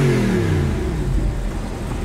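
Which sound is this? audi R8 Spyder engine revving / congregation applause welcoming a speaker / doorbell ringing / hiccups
audi R8 Spyder engine revving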